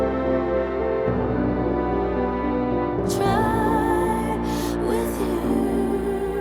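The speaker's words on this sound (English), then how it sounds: "And some live brass." Live brass layered into a pop production, held sustained chords with rich harmonics over a steady full backing, loud and continuous with a brighter swell entering partway through.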